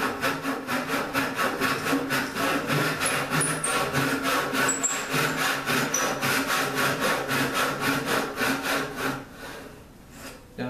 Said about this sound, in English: back saw to slice it down as straight as I possibly can